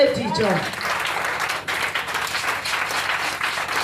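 Church congregation applauding during an evening preaching service, broadband clapping sustained throughout after a brief voice at the start, with talk mixed under it.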